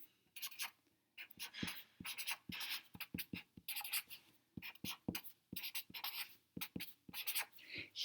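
Pen or pencil scratches across a sheet of paper in short, irregular strokes with brief pauses between, close and fairly quiet, no talking.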